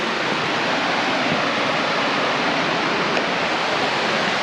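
Helton Creek Falls in the North Georgia mountains pours in a continuous, dense roar of rushing water, steady and enveloping with no other sounds.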